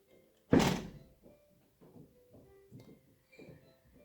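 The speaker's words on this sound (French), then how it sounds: "vous avez dû entendre la porte claquer" A door slams once with a sharp, heavy thud indoors, followed by faint, scattered knocks and rustles in an otherwise quiet room.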